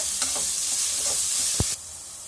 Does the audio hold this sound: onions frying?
yes